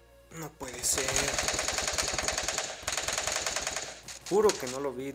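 Rapid automatic gunfire in the Free Fire video game rattles in fast repeated bursts, loud and close, with a voice talking briefly before and after the shots.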